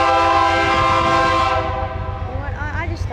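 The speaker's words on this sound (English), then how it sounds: "Hey guys, here comes a Bnsf. It might have CN power." A BNSF freight train passes close by, blasting a loud, chord-like horn that then drops off into rumbling rail noise, with a voice briefly underneath.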